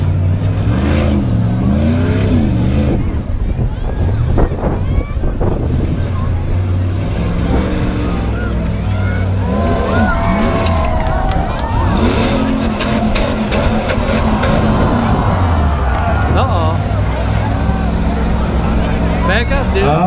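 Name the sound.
full-size Dodge pickup truck engine at tuff trucks event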